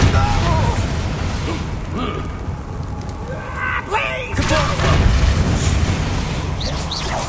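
A Bombarda blasting spell goes off in Hogwarts Legacy on PS5 as a booming, crackling burst partway through, surrounded by game music and character voices.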